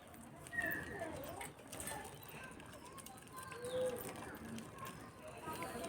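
A female pigeon coos near a tree, soft and low under steady outdoor background noise, with a few brief calls spread across the stretch.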